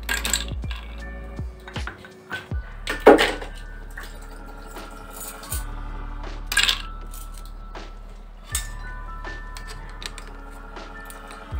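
Ice cubes for a lemon juice drink drop one after another into a glass, giving several sharp, bright clinks and rattles spaced a few seconds apart, close up and clear against a quiet background.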